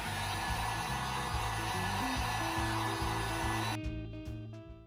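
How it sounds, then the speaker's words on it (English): A heat gun blows a loud, steady roaring hiss close up while warming the emblem on a Silverado/Sierra truck tailgate, with a low rhythmic hum beneath it, before the airflow drops away near the end. "We're going to start out by heating this emblem."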